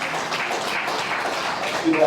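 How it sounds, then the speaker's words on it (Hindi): Audience applause at a World Hindu Federation gathering: steady, dense clapping from a crowd that swells slightly at the end, heard over a murmur of voices. "सत्या सर के लिए एक बार जोरदार ताली बजा"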